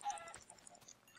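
Chicken clucking in the Gerbercraft video game, a short faint cluck heard alone against quiet background.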